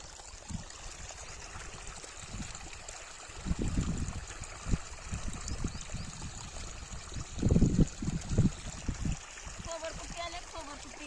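Irrigation water running through a sorghum field, a low continuous trickling and gurgling flow with stronger surging bursts midway, heard close, while people talk intermittently over it.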